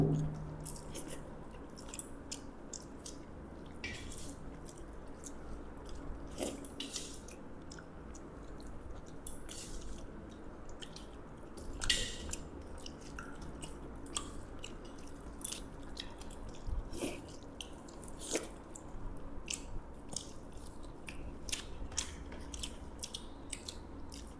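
Close chewing and wet mouth sounds of someone eating fish curry with potatoes, dal and rice by hand, soft squishes and small crunches continuing steadily with no talk.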